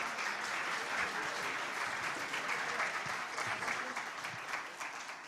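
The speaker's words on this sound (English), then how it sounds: "Big round of applause, please." A crowd applauds at an evening startup awards ceremony in India, honoring a minister; dense, sustained clapping from a large audience, steady and fairly distant, continuing throughout.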